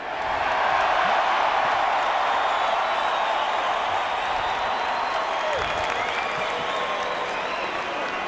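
At a UFC 60 mixed martial arts event, a large arena crowd applauds and cheers continuously, with dense sustained clapping and scattered whoops. The sound fills the space loudly and evenly.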